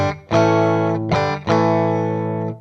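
Distorted electric guitar chords through a Sonicake Pocketmaster Air pedal on a room reverb with only a tiny bit of reverb, three loud strummed hits in a row, each ringing and sustaining briefly with almost no tail.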